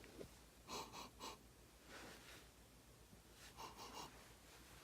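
Two or three soft sniffing inhales close by at a glass of four-year-old wine, repeated in short bursts with quiet pauses between them.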